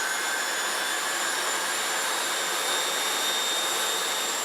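A Jet Provost jet trainer's engine runs with a steady, loud whine and a constant broadband roar, holding unchanged from start to finish with no talking.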